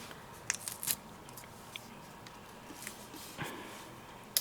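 Scissors cut out craft paper pieces for a decoupaged card, a few faint, quick snips and rustles scattered over a quiet background.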